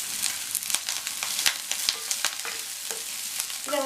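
Green chillies and curry leaves sautéing in a pan, a quiet steady sizzle broken by sharp spatula taps and scrapes at irregular intervals, nothing else heard.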